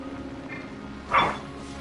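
A single short dog bark from the video game Genshin Impact rises briefly over steady background game music and ambience.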